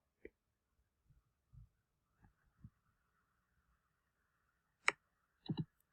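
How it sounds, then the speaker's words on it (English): A few faint, separate keyboard key clicks are spread sparsely over a quiet background during a phonics spelling session. "I'm getting ready to type it"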